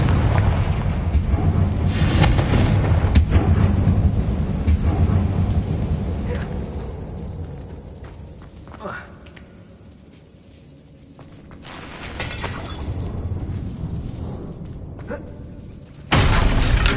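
A Confringo blasting spell in Hogwarts Legacy, loud rumbling blasts and crackling debris at the start, then a quieter stretch that swells again into a renewed roar with sharp bursts near the end.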